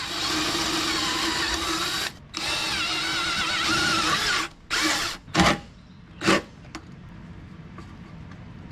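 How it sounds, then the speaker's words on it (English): A power drill pre-drilling holes for sheet metal screws in the rear of a Toyota 4Runner near the spare tire, a loud, close whirring run cut by a brief pause, then several short bursts before the motor stops. "I like pre-drilling a hole for these sheet metal screws."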